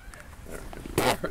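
A circus donkey braying in a short, loud burst near the end, preceded by faint grunting noises, with people talking in the background.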